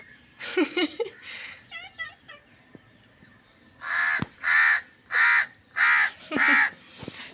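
A crow caws five times in a steady series, loud and close, after a stretch of soft chattering and birdlike squeaks from a nearby pet myna.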